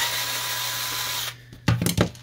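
A power drill whines steadily, close and loud, while removing screws from a Canon Pixma MP560 printer, then stops; a few sharp knocks and clicks of handling the printer follow.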